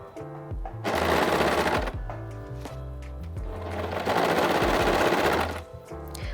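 Overlocker sewing a cuff onto a jumper while trimming the seam, two loud sustained runs of fast, dense whirring stitching close by, with brief slowdowns and a pause between them.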